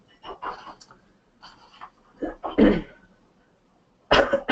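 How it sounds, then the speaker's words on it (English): A man's harsh coughs and throat clearing come in short bursts close to the microphone, separated by brief pauses, with a final loud cough at the end. "I'll try not to cough too much."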